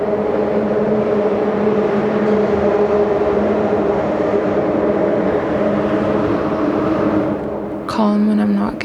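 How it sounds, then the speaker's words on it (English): Cars passing over a bridge by the water in Ottawa make a loud, continuous roar of traffic and road noise, with a sharp clattering burst near the end. "Calm when it's just the water, and chaotic when the cars pass by the bridge."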